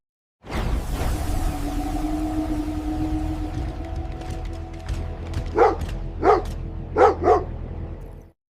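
A puppy in an animated superhero series barks several times in quick sharp bursts near the end, following a long whooshing, venting-plasma hiss with faint whimpering tones; no talk is heard.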